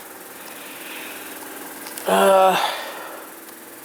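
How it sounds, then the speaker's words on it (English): An electric desk fan hums steadily in the background, with a low tonal drone like a diesel engine. A brief louder buzzing swell stands out for about half a second mid-clip, and a voice speaks a single word. "That is my desk fan over there"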